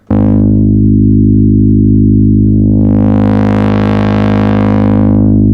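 Eurorack modular synth with its modulation input driven by a Bitwig LFO through an ES8 interface, holding a loud, steady drone whose upper harmonics drop away early and then swell back up slowly, with no talk.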